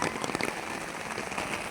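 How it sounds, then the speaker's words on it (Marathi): Heavy monsoon rain pours over a themed public garden in Thane, a dense, even hiss of drops hitting the ground, steady and close throughout. "अरे त्या पावसाने ना सगळ्याची वाट लावली."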